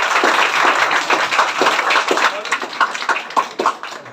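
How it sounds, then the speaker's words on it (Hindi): A group claps for a topper being honoured at a school toppers' award ceremony, loud, close, uneven claps that start dense and thin into scattered individual strikes. "खुशबू के लिए जोरदार ताली।"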